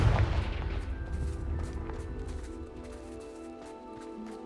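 Confringo fire spell blasting in Hogwarts Legacy, a loud booming impact at the start with a rumbling low tail that fades over several seconds.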